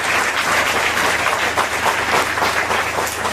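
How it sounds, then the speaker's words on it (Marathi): A crowd at a village tribal school event gives sustained, loud applause, a dense even wash of clapping that stays constant throughout. "त्यांच्यासाठी आणखीन पुन्हा एकदा जोरात टाळ्या वाजल्या पाहिजे."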